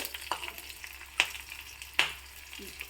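Crushed garlic cloves and curry leaves drop into hot tempering oil for an Udupi-style dish, giving a soft steady sizzle with three sharp spitting bursts spaced about a second apart, close and clear with no talking.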